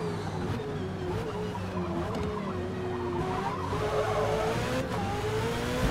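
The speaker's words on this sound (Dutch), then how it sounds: "Dat is een Ford, volgens mij een Ford GT die voor ons rijdt." Ford GT race car in Forza Motorsport, a sustained engine drone with a wavering pitch and faint tire squeal as it drives ahead, steady and fairly loud throughout.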